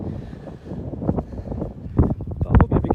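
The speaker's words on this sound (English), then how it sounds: "I know it's windy, so forgive me the noise." Wind buffets the microphone in uneven gusts on an outdoor walk in South Lanarkshire, Scotland, rumbling and roaring louder toward the end, with no voices present.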